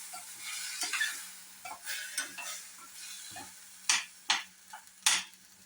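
Red capsicum with a pinch of turmeric sautéing in a pan, a soft steady sizzle broken by repeated scraping stirs and sharp clicks of a utensil against the pan, close and fairly quiet.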